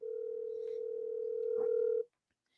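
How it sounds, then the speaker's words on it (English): An outgoing telephone call produces a steady, loud tone lasting about two seconds, broken by a soft click partway through, before it cuts off into silence. "I'm going to call Harold right now."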